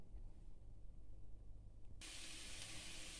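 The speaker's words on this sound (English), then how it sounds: "I'm going to turn in my onions inside. So I'm going to fry until it gives me a golden color." Onions go into a hot frying pan for Spanish tuna croquettes: a quiet low hum breaks partway through into a sudden, steady sizzling hiss.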